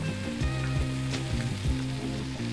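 Squash sizzles and crackles as it sautés in a hot pan with carrot, a steady frying hiss with occasional soft stirring bumps, fairly close and with no talking.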